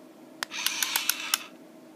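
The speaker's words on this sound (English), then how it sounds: "they always make that little clicky noise" A quick run of small sharp clicks from a Transformers Prime remote-control toy car, about half a dozen in irregular rhythm, over a faint whirring motor, quiet and close.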